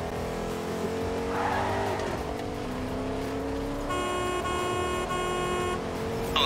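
Engine of a car in Fortnite revving and driving steadily, with tire squeal and a brief electronic chime layered over the motor.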